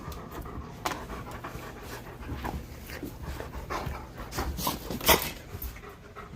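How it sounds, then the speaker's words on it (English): A Great Dane pants steadily nearby, quick rhythmic huffs of breath continuing throughout, with no talking. "this is our horse, our Great Dane, Great Pyrenees, Cypress"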